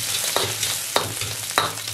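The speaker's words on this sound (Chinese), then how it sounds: "然后下入蒜子炒香" Garlic cloves stir-fried in hot oil in a wok after browned pork slices, a steady close sizzle with three sharp scrapes of the spatula spaced evenly through it.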